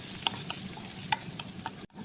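Garlic frying in a pan for a gourd vegetable sauté, a steady close sizzle with a few sharp scrapes of a utensil stirring it, cut off abruptly near the end.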